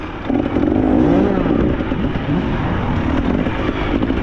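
A dirt bike engine at a vet-class cross-country race, a steady loud motor drone with rising and falling revs, continuous throughout.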